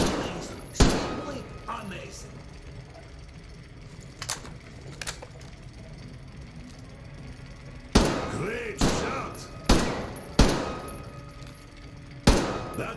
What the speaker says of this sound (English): That's what I call real shooting.